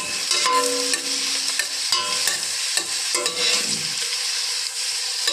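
Onion and garlic sauté in oil in a pan while being cooked in a Riyadh kitchen, giving a loud, steady sizzle broken up by scraping, clattering stirs of a utensil against the pan, with no speech.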